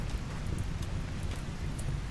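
Steady rain pours down in RimWorld, a constant broadband hiss of drops with a low rumble beneath, even and unbroken throughout with no voices.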